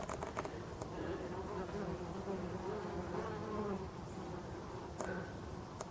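Honeybees buzz continuously and up close at the entrance of a forest hive, a dense, steady drone with several overlapping wingbeats.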